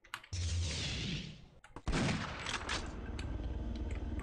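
Rapid gunfire bursts in Shogo: Mobile Armor Division, loud and dense, with a brief pause before a second sustained volley of shots and clattering impacts.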